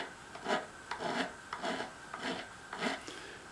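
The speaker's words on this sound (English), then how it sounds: "But you can file these down." Metal file rasping across sharp fret ends on a ukulele neck, about five short rhythmic strokes, close and fairly quiet, with no talking.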